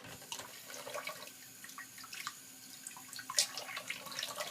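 Tap water runs into a baby bath, a soft, continuous splashing trickle with small droplet clicks and a brief sharp clink, quiet and close with no talking.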